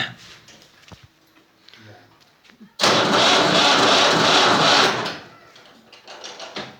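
A Fiat tractor engine is cranked but fails to catch: a loud, rough burst of about two seconds rises abruptly and then cuts off, with quieter farmyard noise before and after.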